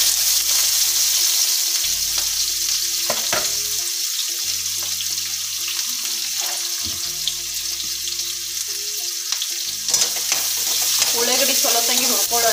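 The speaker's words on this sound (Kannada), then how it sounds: "ಉಳ್ಳಾಗಡ್ಡಿ ಸ್ವಲ್ಪ ತಂಗಿ ಹುರ್ಕೊಳ್ಳೋಣ" Sliced onions sizzle in hot oil with cumin, asafoetida and curry leaves as they are stirred in a pan. A steady loud frying hiss runs throughout, broken by scraping stirs, with no talking.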